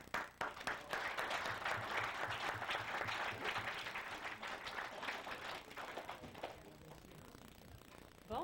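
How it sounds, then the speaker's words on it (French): Sustained audience applause at a youth centre opening in a Quebec village, dense and steady clapping from a crowd that holds for several seconds before thinning out toward the end. "Félicitations, puis on vous applaudit."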